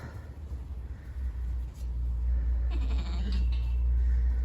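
Sheep bleating on a hay farm, short calls from ewes rising over a steady low rumble of wind or engine noise, with a couple of higher bleats near the end.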